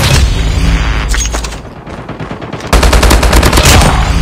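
Call of Duty video game gunfire is loud and close. Rapid automatic bursts and booming shots fill the opening, ease into a brief lull, then a dense stream of fire resumes.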